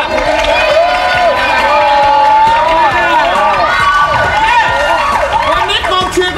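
Crowd of supporters cheering at a Thai football-related gathering, a dense continuous roar of voices with whoops and shouts, loud and sustained throughout.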